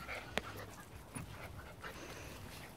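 A toy sheltie puppy pants softly at close range with a quick, rhythmic breathing pattern, quiet and unbroken, with a small yelp or thump partway through.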